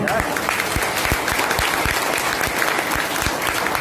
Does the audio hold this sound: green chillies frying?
no